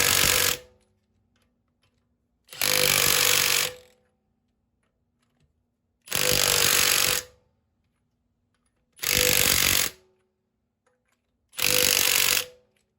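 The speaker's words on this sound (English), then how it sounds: "This is when I like to impact them in." An impact wrench drives lug nuts onto a Tesla Model S wheel in five loud, close bursts of about a second each, separated by silent pauses.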